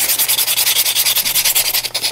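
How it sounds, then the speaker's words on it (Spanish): Sandpaper rubbed by hand over a small Christmas craft figure, a steady, close rhythm of quick back-and-forth scrubbing strokes, roughly eight per second, with no voices. "lo que vamos a hacer entonces es pasarle lija muy al paso, con calma, mucha paciencia"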